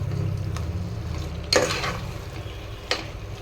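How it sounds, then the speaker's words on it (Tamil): Chicken sautés in masala in a pan with a soft, continuous sizzle. Two sharper stirring scrapes stand out against it, and nobody speaks. "சிக்கனையும் இந்த மசாலாவோட இறங்குற மாதிரி ஒரு 5 நிமிஷம் நல்லா வதக்குங்க"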